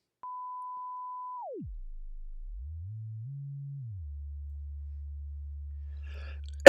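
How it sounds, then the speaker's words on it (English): A test oscillator sine wave sounds alone, starting as a steady mid tone, then sweeping down to a low 40 hertz hum, rising briefly and settling low again before a sharp burst at the end. "You can hear zipper noise on a sine wave very easily."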